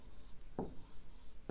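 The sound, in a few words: writing on paper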